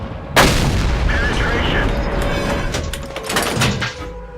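A tank cannon firing in World of Tanks, one loud sharp blast near the start followed by a rolling rumble and engine noise, with a second thumping shot later and some talk.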